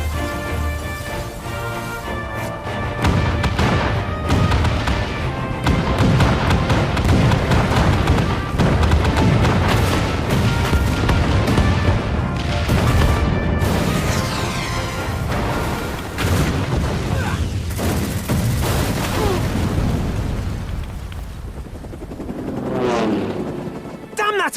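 Heavy cannon fire in the Final Fantasy XIV battle for Ala Mhigo: deep booming blasts and rumbling thuds roll through a dense, loud in-game mix, with voices heard at times.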